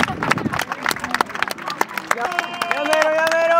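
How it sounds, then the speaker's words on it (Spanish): Crowd at Chichén Itzá during the equinox breaking into applause, with scattered clapping and overlapping voices that swell into a sustained, fairly loud burst. "Aplaudamos, aplaudamos."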